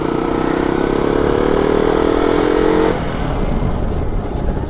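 A KTM Duke motorcycle is ridden along a road with a steady, close engine drone and wind rush. The tone drops and shifts near the three-second mark as the ride continues, with no voices.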